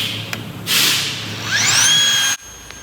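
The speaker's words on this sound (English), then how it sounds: "Now now I got the Scotch-Brite disc on there. I'm going back and forth." A grinder fitted with a Scotch-Brite disc blends stainless steel in two close, loud bursts: a hissing rush, then a rising whine as the tool spins up and cuts off abruptly.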